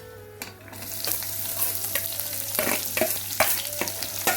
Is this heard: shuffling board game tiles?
no